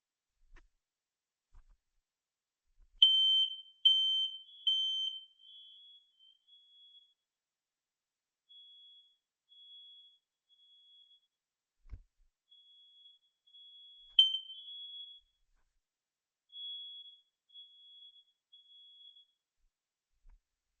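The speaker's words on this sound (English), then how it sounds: "Now we're testing another smoke detector." A smoke detector sounds during a fire alarm test, giving sharp, high electronic beeps in short irregular bursts and intermittent chirps separated by silence, clear and close, with a single low thump midway.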